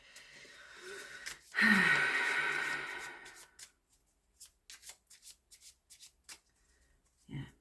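Tarot cards being shuffled and drawn: a loud, dense riffle swells for about two seconds and fades, then a string of short, quiet card snaps and slides follows at irregular intervals.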